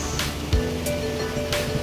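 A natural river in Silang, Cavite flows with a constant, fairly loud rushing wash, broken by a few brief splashes and surges.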